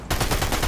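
A video game gun fires in rapid automatic bursts, loud and close, a dense rattle of shots that starts abruptly and continues through a short burst.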